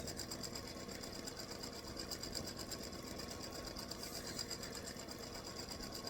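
An embroidery sewing machine stitches a freestanding lace hibiscus flower earring, its needle chattering in a fast, even rhythm, steady and close with no pauses.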